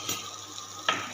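Beaten eggs poured a little at a time into a hot pan with seasoned bread masala, a steady sizzle with a brief sharper burst of frying near the end, close and fairly quiet.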